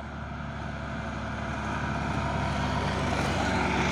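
A Fuso Super Great truck climbing the Bukit Kodok hill gives off a steady, loud engine drone with broad rumbling noise that holds constant throughout, with no voices over it.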